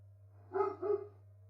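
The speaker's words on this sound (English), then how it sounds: "barking at one of the neighbor dogs out on a walk" Dog barking at neighbor dogs out on a walk, two quick, moderately close barks in a row over a steady low electrical hum, otherwise quiet.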